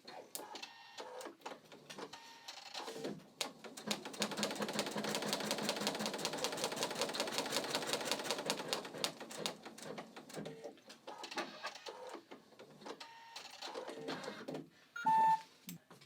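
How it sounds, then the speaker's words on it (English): An embroidery machine bastes a stitched outline around the design area on polar fleece in the hoop, a fast, steady, mechanical needle chatter that swells in the middle, then gives way to intermittent clicks and whirs. "it's going to baste right around where the design is going to stitch"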